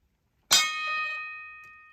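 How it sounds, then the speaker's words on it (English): An antique boxing bell mechanism strikes its bell once, producing a bright, sharp clang that rings out with a long, slowly fading metallic tone in otherwise quiet surroundings. "when I push this down, it'll grab the arm until it gets to a certain point where release, hit the bell"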